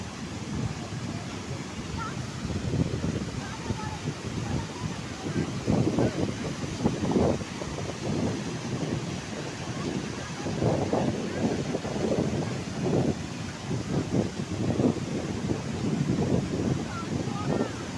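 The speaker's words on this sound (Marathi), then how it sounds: "इथे गंगेला खूप पूर आलेला आहे आणि पाऊस पण चालू आहे." Steady wind and rain roar over the flooded Godavari river, a broad continuous wash with gusty low rumbles swelling and fading across the whole stretch, fairly close and loud.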